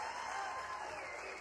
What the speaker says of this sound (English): You hear the crowd here.